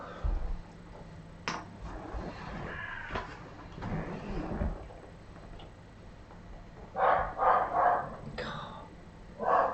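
A dog barks several times in quick bursts near the end, with people chatting around a board game table earlier and a door left open.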